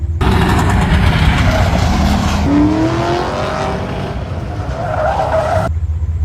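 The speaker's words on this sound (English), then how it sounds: "We are currently in my Camaro getting ready to go through the Autocross." A 1969 Camaro tears through an autocross run, its tires skidding and squealing loudly over a roaring engine, with the squeal rising in pitch midway and continuing nearly the whole time before cutting off.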